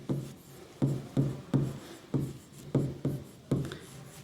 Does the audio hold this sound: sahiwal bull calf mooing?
no